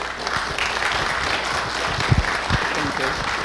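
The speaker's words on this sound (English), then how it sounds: "Huge round of applause for this amazing woman." Audience applause following a talk about a battle with cancer, a steady broadband clapping that fills the room for several seconds, with a couple of louder thumps and some voices mixed in.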